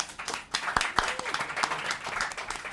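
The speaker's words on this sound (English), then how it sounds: "round of applause" Applause from an audience at a magazine issue launch event in a lounge, a scattered burst of clapping under background chatter and a voice.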